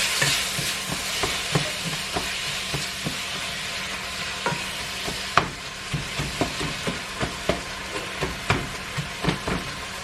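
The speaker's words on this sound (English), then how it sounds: "That way these vegetables can saute in there." Chopped vegetables sauté in a hot pan with fat, giving a steady close sizzle broken by frequent sharp clinks and scrapes as they are stirred.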